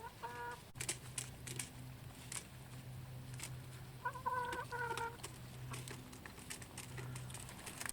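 Hens in a backyard coop cluck faintly in short bursts, with a few repeated calls near the start and middle over a quiet low hum.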